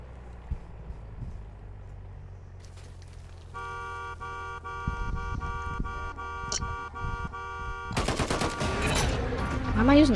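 Gunfire rings out in Call of Duty MW3 Zombies: a dense, loud burst of rapid shots dominates the end of the clip, preceded by sharper game effects, a sustained tonal hum and low rumbling ambience.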